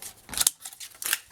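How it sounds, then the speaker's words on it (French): Scissors cut a strip of paper for a scrapbooking card box, making two or three crisp, close snips with a soft rustle in between and no talk. "Là, je vais couper une bande."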